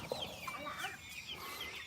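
Chickens cluck and chatter steadily in a morning farmyard, a busy, close layer of bird calls with a brief sharper squawk near the start and faint background noise throughout.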